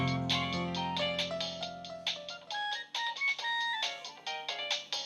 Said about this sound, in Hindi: आलिया का फोन है